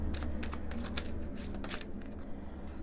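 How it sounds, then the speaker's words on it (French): An oracle card deck being handled as a card is drawn, a quick flurry of crisp riffling flicks and papery slides, close and continuous for a few seconds. "On va prendre une carte pour le masculin"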